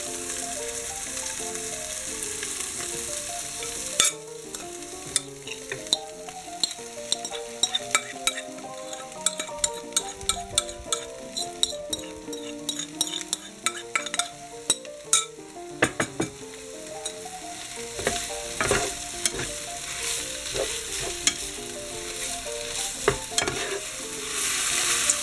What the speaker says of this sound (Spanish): vamos a echar la carne al sofrito